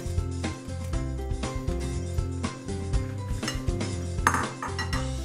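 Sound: gnocchi being added to a hot pan

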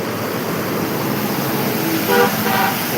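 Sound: road traffic with car horns honking

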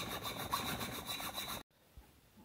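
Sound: hacksaw cutting and filing a metal keyway

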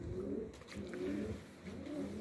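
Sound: small pigeon cooing

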